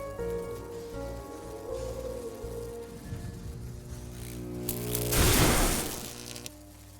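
Rain falls in the video game Sovereign Syndicate as a soft, steady patter under low tonal ambience, rising to a louder wash of rushing noise near the end before easing off again.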